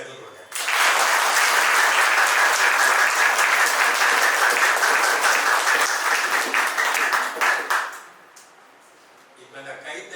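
Loud, sustained audience applause at a motivational speech event, a dense crowd clapping for about seven seconds before fading out.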